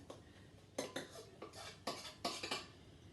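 A spatula scrapes tart filling out of a bowl in a series of short, irregular strokes, close and fairly quiet, with sharp scraping bursts and brief pauses between them.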